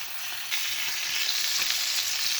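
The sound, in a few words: ribeye steak sizzling in pan while basted with thyme and rosemary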